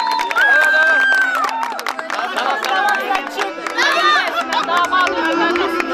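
Wedding guests at a henna night in a Turkish village clap in a dense, lively burst, mixed with cheering, chatter and voices over the applause throughout.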